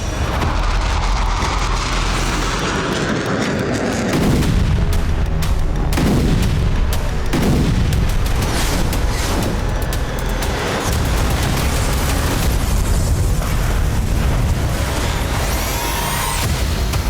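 An attack on Russian navy ships at Sevastopol produces repeated heavy booms and blasts over a continuous loud rumbling roar, with irregular thuds of varying strength throughout.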